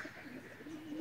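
A champion flying pigeon coos softly, a low, rolling murmur heard close up in a quiet setting.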